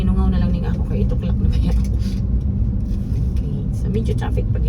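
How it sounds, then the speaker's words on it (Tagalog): Morning road traffic rumbles steadily nearby, a continuous low drone of passing cars and engines, with a person talking throughout over the noise. "So kaganina na nagsugod ang traffic."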